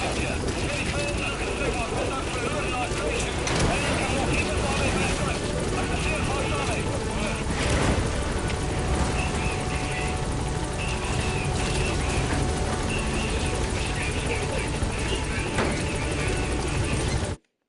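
Helicopter in the video game Metal Gear Solid 5, a steady rotor thrum and engine drone running throughout, with voices talking over it.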